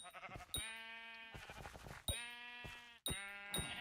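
Sheep bleating in Hypixel Skyblock, the video game: several loud, wavering bleats in quick succession, close and clear, with bright chime-like game tones between them and no talking.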